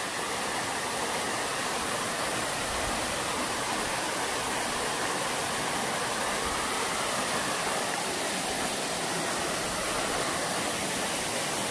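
A waterfall pours into a pool ringed by rocks, a loud, constant broadband roar of falling water that stays unchanged throughout with no voices.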